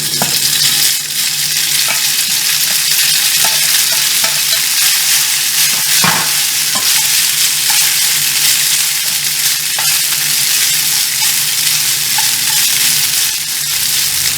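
Noodles fry in a hot, oiled skillet with a loud, dense, continuous sizzle and crackle, close and steady throughout, with no talking.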